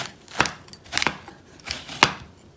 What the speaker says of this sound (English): we're going to scoop out the center